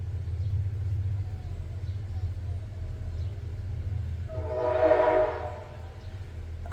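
A train rumbles past close by, sounding one steady horn blast near the end over a continuous low rolling roar.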